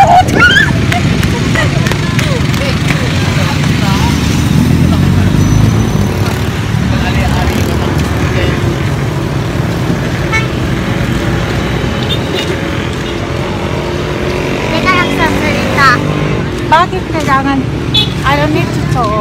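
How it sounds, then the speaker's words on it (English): Busy street traffic with many vehicles, a continuous close rumble of engines and passing cars, with people talking over it. "There's a lot of vehicle."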